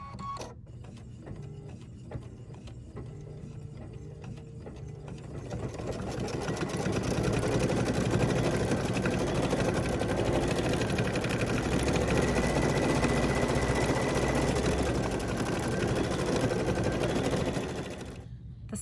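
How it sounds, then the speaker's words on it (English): An embroidery machine sews a thick satin stitch outline around a red heart on a mini pillow, its steady mechanical chatter rising louder after a quieter start and running continuously until it stops near the end. "it's going to stitch a satin stitch around the heart"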